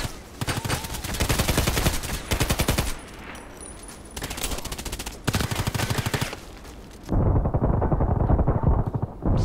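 Gunfire in the Contract Wars shooter, with long rapid bursts of automatic fire that start and stop in several loud volleys, broken by short pauses, and a final sustained burst that sounds close and heavy.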